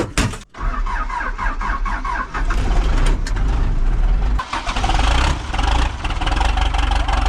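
A backhoe engine cold-starts in arctic cold: a brief crank and catch, then a loud, rough diesel rumble that surges and settles into a steady idle up close, with no talk.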